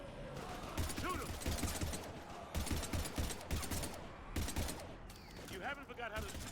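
Rapid bursts of gunfire from the Mass Effect 3 video game crackle in repeated volleys, with a voice talking underneath.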